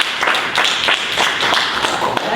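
An audience at a pardons clinic press conference breaks into steady, moderately loud applause, with many hands clapping in a dense, continuous patter throughout.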